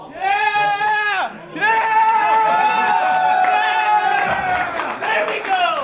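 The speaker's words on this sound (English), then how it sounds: "I want to hear that cheer every time" An audience at a My Little Pony season 4 finale screening in Vancouver cheers with loud, sustained whoops and yells, briefly dipping then swelling again, along with some clapping.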